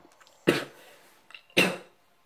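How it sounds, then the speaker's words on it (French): Two short, sharp coughs about a second apart, close and fairly loud against a quiet background. "Excusez-moi, je tousse."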